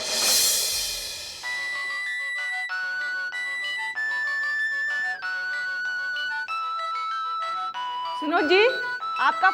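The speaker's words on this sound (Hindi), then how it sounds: "सुनो जी, आपका फोन है।" A bright melodic phone ringtone plays a chiming tune over several seconds, loud and close, with a brief burst of noise at the start and warbling tones near the end.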